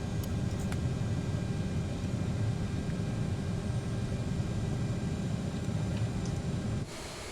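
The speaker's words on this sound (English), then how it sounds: "So you can hear those CF-34s firing up." CF34 engines spool up on a CRJ900, a steady loud low rumble and whine that holds evenly and then drops off abruptly near the end.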